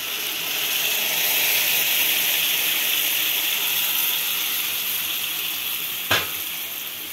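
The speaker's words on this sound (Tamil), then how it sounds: "தக்காளி சாறு ஊற்றிட்டேன்" Tomato juice from smashed tomatoes hitting a pan of sautéed onion and garlic while making thakkali thokku, giving a steady loud sizzle that holds for several seconds, with a sharp clack near the end.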